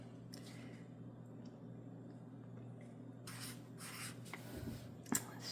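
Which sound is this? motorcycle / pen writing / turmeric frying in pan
pen writing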